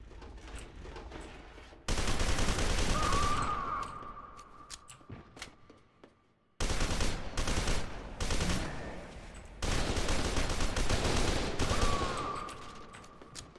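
Rapid automatic gunfire rattles through a firefight in F.E.A.R. 2, loud bursts of shots that pause and resume in several sustained volleys, with scattered sharp cracks between them.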